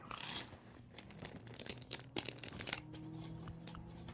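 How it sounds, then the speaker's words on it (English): Small plastic bags crinkle and rustle close by in quick, faint bursts of crackling, with short pauses between handlings. "Oh, I've got a couple little plastic bags."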